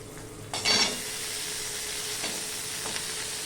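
Potatoes tipped into a pan of frying onions for a vegetarian potol-pepe-chholar dal set off a sharp sizzling burst, then a steady low frying hiss follows.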